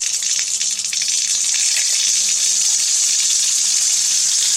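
Water gushes steadily from a tap, a constant bright hiss with faint clatter beneath, no talking.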